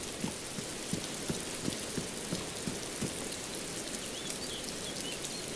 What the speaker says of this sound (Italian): La pioggia.